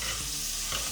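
Steady close sizzle and spatter of a steak frying in butter with rosemary and garlic as it is basted in a tilted pan. Continuous and fairly loud, with no talking.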